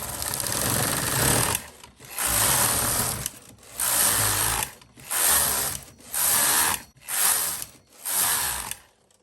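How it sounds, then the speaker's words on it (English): A double bed knitting machine with ribber and weights hung on the fabric knits rows, its carriage sweeping back and forth in loud mechanical whirring passes of about a second each, separated by brief pauses. "I'm just going to knit a few rows and take it off the machine"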